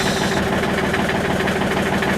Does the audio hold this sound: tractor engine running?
yes